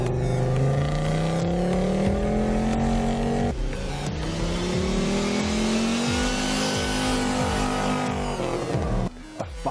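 An Audi quattro rally car's five-cylinder engine revs loudly and close for several seconds, its pitch climbing in long sweeps and briefly dipping between pulls, with no voices.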